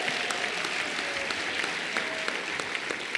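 Audience applause at the International Association of Women Judges conference in Cape Town, South Africa: steady broadband clapping from a large seated crowd, moderately loud and continuous across the short stretch with no voices over it.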